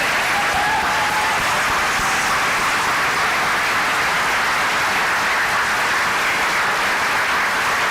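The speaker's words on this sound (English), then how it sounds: "can I get a round of applause for all the CMSD students and teachers here today?" Loud, sustained audience applause for students and teachers at a school district address, dense crowd clapping filling the whole stretch without a break.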